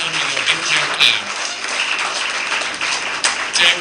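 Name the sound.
audience applause welcoming guests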